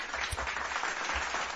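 A short burst of applause plays as a sound cue during a casual talk show, brief clapping filling the moment, with no voices over it.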